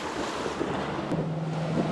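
Rough lake water slaps and churns around a Lund 219 fishing boat on Lake of the Woods, a steady washing roar with wind buffeting the microphone and no talk.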